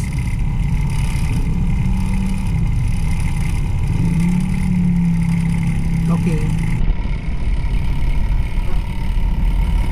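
Toyota Avanza MPV idling and creeping in heavy traffic on Commonwealth Avenue in Manila, a steady low engine drone heard from inside the car, joined by a brief hum partway through.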